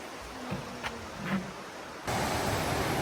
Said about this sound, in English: we follow this river and listen to the power of it.